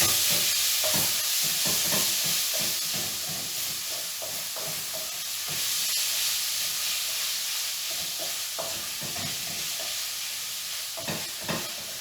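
Pork stir-frying in a hot, lightly oiled wok, with a steady loud sizzle and hiss broken by repeated clacking stirs and scrapes throughout, no voices.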